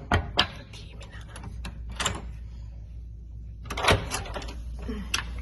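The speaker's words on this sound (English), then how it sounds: "Open the door." A door is opened, making a few sharp clunks and rattles spaced over several seconds against a low steady hum, with faint speech nearby.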